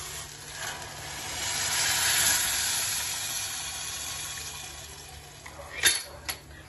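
Water hits a hot pan of roasted masala and green chickpeas with a rising hiss and sizzle that slowly fades, followed by a couple of sharp utensil clinks near the end.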